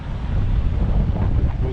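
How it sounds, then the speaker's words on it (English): Wind gusts across a sandy beach near San Agustin on a breezy day, a loud continuous roar buffeting the microphone with low rumble and no break. "It's a little bit on the windy side today."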